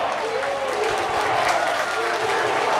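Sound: football crowd jeering the coach

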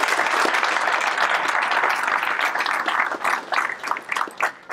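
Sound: audience applause at a swearing-in ceremony

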